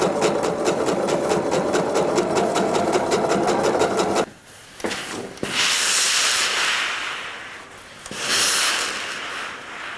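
A sewing machine stitches gathering threads along the edge of a jacket sleeve, a rapid rhythmic mechanical chatter for about four seconds, followed by fabric rustling and handling sounds.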